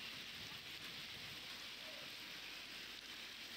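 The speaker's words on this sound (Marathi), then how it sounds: "पाऊस सुरू आहे।" Heavy monsoon rain falling in Maharashtra, a dense, steady hiss of downpour on surfaces, uniform and fairly faint throughout with no voices.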